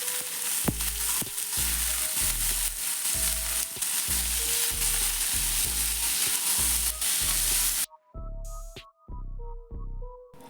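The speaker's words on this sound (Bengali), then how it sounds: "পেঁয়াজ ভাজা হয়ে গেছে, এবার কেটে রাখা মিষ্টি কুমড়ো দিয়ে দেব।" Cut sweet pumpkin fries in a pan with fried onions and green chillies, a constant sizzle broken by regular scraping stir strokes, then quieter stirring near the end.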